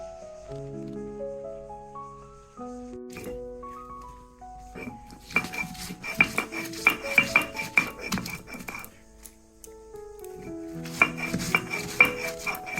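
Onion, dried chillies and mustard ground into paste for a sea mola fish curry, heard as bursts of rattling, scraping clatter after a quiet musical intro, with tonal background music running throughout.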